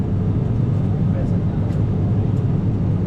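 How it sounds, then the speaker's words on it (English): A small propeller plane's engine drones steadily and loudly from inside the cabin during a short flight from Kathmandu to Pokhara in Nepal, a dense, unbroken roar with faint voices mixed into it. "It's a prop engine, small plane."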